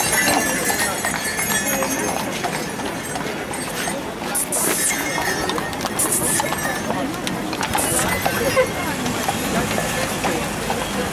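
Horse hooves clip-clop steadily as a horse-drawn carriage moves across Freedom Square in Lviv, with people talking over the continuous hoofbeats throughout.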